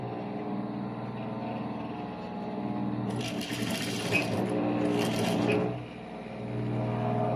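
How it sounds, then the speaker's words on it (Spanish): A straight-stitch sewing machine runs steadily around a three-piece fabric quilt, giving a continuous mechanical hum that swells louder midway with a brighter whirring rattle before settling back, with no talking. "Y vamos a ir cosiendo todo alrededor."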